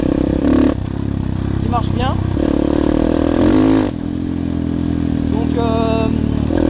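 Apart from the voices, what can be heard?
190 Biky Z2 enduro motorcycle engine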